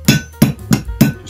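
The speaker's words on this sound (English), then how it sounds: "I'm just tapping it down with a soft face mallet, nylon mallet," A nylon soft-face mallet taps a Rotoflex hub down to take up end float, giving five evenly spaced, close, dull thumps with no voices.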